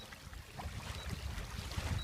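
A Parkzone Sport Cub RC plane skips in and out of the water, its faint motor buzz mixed with splashing and breezy wind noise outdoors.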